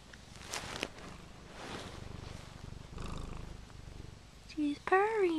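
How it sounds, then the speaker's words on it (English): A cat purrs as a low, steady rumble throughout, heard close up at a quiet indoor Halloween pumpkin-carving gathering, with soft voices and a brief rustle over it. "She's purring."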